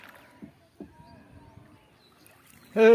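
A small boat is rowed across floodwater: two soft paddle splashes over near silence, then a voice breaks in at the end.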